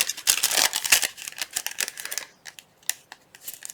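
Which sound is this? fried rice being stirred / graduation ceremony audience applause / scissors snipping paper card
scissors snipping paper card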